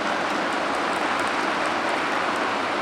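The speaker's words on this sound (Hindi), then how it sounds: "तो आज बारिश लाई आपके लिए" Rain falls steadily as a dense, even hiss, loud and continuous throughout, with no talk.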